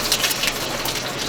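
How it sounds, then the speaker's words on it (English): Pork and its coating mixture sizzling in a hot stir-fry pan, a brief soft crackling hiss like light rain, steady and close, with no talk. "I grab this mixture and I dump it right in. Okay, and let it fry in here."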